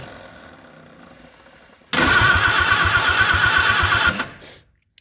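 A Willys L-134 engine in a 1946 CJ-2A cranks briefly, catches and runs with a loud, fast, even chugging for a couple of seconds before cutting off abruptly.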